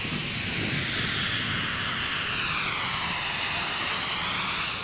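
Steam locomotive Fenchurch on the Bluebell Railway drifting through a platform with a steady loud hiss of escaping steam, continuous and close, with no clear chuffing beats.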